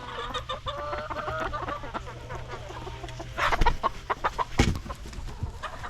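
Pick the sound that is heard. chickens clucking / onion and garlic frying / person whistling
chickens clucking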